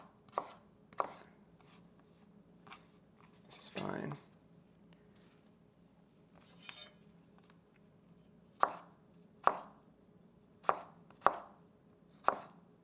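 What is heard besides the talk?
chopping potatoes for fries on a cutting board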